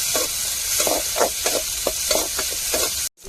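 Onion and tomato frying in a pan for a fish curry, a steady loud sizzle with rhythmic stirring scrapes about every half second, close up, cutting off abruptly at the end.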